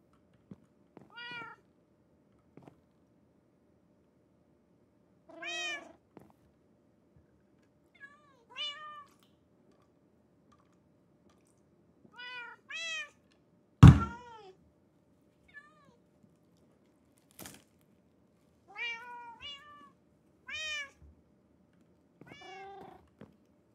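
A cat meows in the Minecraft video game, with short separate mews repeating every few seconds against near silence, plus one or two sharp clicks in between.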